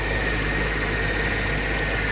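A car engine idles steadily at an Australian auction, a smooth, even low rumble with a faint mechanical hum that holds without change throughout.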